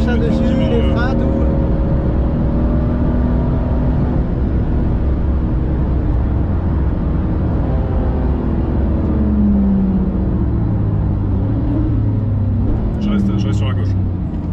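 A car engine drives a race track, its loud, steady drone climbing and falling in pitch as the throttle opens and eases through corners, with someone talking over it throughout.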